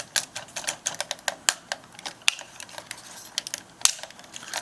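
The ratcheting joints of a Threezero Scopedog Advance action figure make rapid, close, dry clicks in quick bursts as the limbs are bent.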